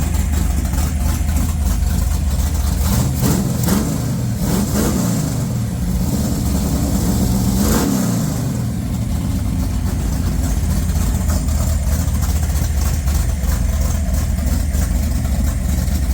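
A 1981 Ford Mustang Foxbody engine idling rough while still cold, a loud close rumble with uneven pulsing and a couple of brief rev swells, no talk.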